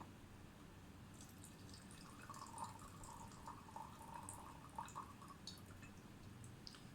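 Four-year-old Sanxia green tea poured in a quiet, steady trickle of liquid lasting several seconds, soft and close, with no voices.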